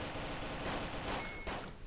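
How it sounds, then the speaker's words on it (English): Rapid bursts of gunfire from the DayZ Overpoch mod fill the whole stretch, a dense continuous volley with sharper cracks near the end, heard alone without talk. "Gun them all down, Derek!"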